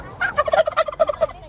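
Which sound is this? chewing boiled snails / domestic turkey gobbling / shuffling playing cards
domestic turkey gobbling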